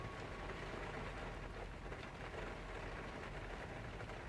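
Heavy simulated rain drums on a Zibo 737-800 airliner in a flight simulator using xEnviro weather during a tropical storm, a dense, constant hiss and patter filling the whole stretch.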